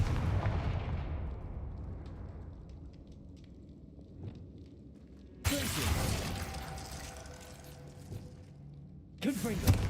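A Confringo blasting spell bursts in Hogwarts Legacy with a loud, broad crackling explosion, fading into rumbling background, then a second blast erupts midway and a third sharp burst lands near the end, all over game ambience.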